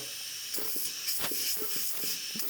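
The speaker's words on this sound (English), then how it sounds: "I'm gonna do an air check on the clutch packs. I mean, you can probably hear them." Steady, faint hiss of compressed air blown into the clutch packs of a Ford C4 automatic transmission during an air check, with small irregular pulses and clicks, no talking.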